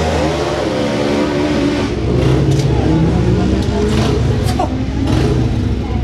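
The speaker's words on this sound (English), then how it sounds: "the Pat 2, the 900 Kawasaki engined dragster in the right hand lane" A Kawasaki 900-engined dragster accelerates down the right-hand lane of a drag strip, its engine loud and rising, joined by a second machine's roar, with announcer commentary running over it.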